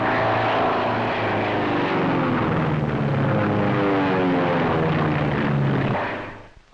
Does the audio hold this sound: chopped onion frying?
no